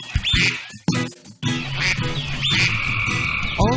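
Cartoonish frog croaks and duck quacks in a children's nursery rhyme song, several short animated calls in quick succession, fairly loud and up front with a musical backing.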